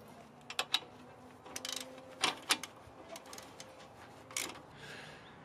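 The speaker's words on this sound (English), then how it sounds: "we're just tightening the bolts back up for the caliper" Caliper bolts on a Subaru are tightened with a ratchet, giving scattered bursts of sharp metallic clicks and ticks at close range, separated by short quiet gaps.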